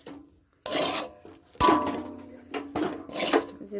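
A spoon scrapes and stirs a semolina mixture in a pan for chusi pitha, three separate bursts of rasping, gritty strokes with brief pauses, close and fairly loud.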